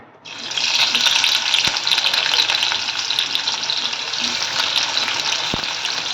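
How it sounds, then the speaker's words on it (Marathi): Sliced onion dropped into hot oil for prawn masala sets off a loud, bright sizzle that starts abruptly and holds steady, close to the pan, with a couple of faint clicks. "आता मी यामध्ये घालणार आहे उभा चिरलेला कांदा"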